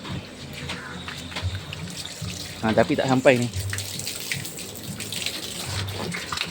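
Tap water from a pipe runs into a tank at a fish-breeding setup, a steady near splash and trickle with a brief louder gush midway, while someone talks over it throughout.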